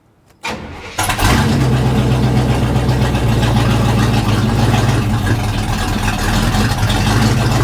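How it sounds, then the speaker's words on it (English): A square body truck engine is pumped and cranked for its first start. It catches within a second and settles into a loud, steady, rumbling idle close to the listener. "First fire up."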